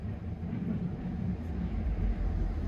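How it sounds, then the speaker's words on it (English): GO Transit commuter train passing close by, a steady low rumble and roar of wheels and engine holding at moderate loudness throughout, with no voices over it. "This train passes us"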